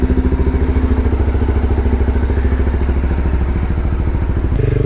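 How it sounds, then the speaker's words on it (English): A motorcycle engine chugs steadily and loudly up close while riding in cold rain, its rapid rhythmic thumping continuing throughout, with a brief shift near the end. "What a beautiful day to be riding a motorcycle."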